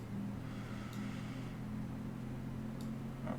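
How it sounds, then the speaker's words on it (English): Airbus A320 engines in Microsoft Flight Simulator 2020 give a steady low drone with a faint higher whine above it, holding level and unbroken throughout. "And the engine, as you hear, is pulling up right now."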